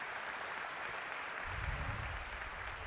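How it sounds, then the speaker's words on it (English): Spectators at an Olympic table tennis match between Waldner and Jiang Jialiang applaud in a steady, moderately distant patter, with a low rumble of crowd noise joining partway through. "The crowd is trying to pump him up."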